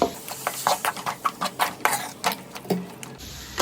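A spoon scrapes and knocks in a pan as four finely chopped tomatoes are stirred into Kerala-style chicken roast masala, making irregular close clatters and soft scraping taps.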